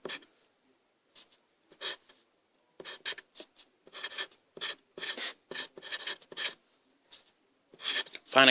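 Pen or pencil writing out a math problem on paper or a board, a series of short scratchy strokes in irregular bursts with pauses between, close and fairly faint, with no talking.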